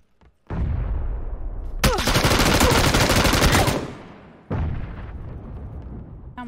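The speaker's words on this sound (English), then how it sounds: "Now somebody's shooting behind." Heavy automatic gunfire in a video game, loud and sustained, with a dense spray of rapid shots in the middle that fades and then resumes as another burst, with no speech.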